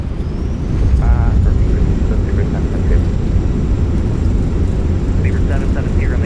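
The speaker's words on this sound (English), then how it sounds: "Reversers are out. Decelerating." A deep, broad roar of Airbus A319 thrust reversers during landing rollout in a flight simulator, steady and loud throughout with a faint high whine above it, while a voice talks briefly.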